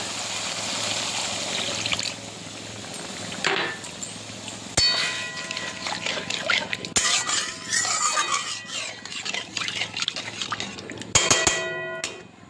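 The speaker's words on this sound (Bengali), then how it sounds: "তেল ছেড়ে গেছে এবার জল দিয়ে দিলাম" Water poured into a pan of oil-fried spices for a spicy boal fish curry, splashing and trickling with clanking pan knocks, then a burst of bubbling and sizzling as the liquid hits the hot oil, fairly close.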